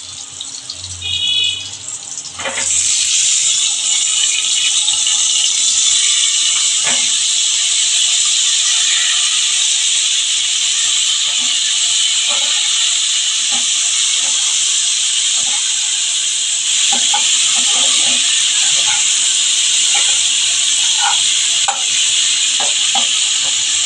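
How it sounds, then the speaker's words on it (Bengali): Cauliflower and mixed winter vegetables fry in oil in a pan for vegetable khichuri, giving a steady loud sizzle and hiss that holds throughout, with occasional clinks and stirring scrapes. "আমি এক এক করে কিন্তু সব সবজিগুলো একটু ভেজে নেব"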